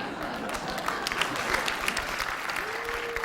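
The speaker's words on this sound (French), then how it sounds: "j'ai l'impression que c'est les mecs qui applaudissent" A comedy-show audience applauds in a dense, steady clatter of clapping from a crowd, sustained without a break throughout.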